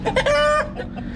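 Chickens cluck and squawk close by in a rooster-keeping setting, a burst of loud calls with one drawn-out cackle, followed by quieter background noise.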